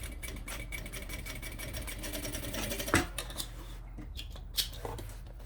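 A sewing machine stitches a seam on a small sublimated zip pouch, running in a steady rapid rhythmic whir close by, with a few knocks and clicks as the fabric is handled near the end.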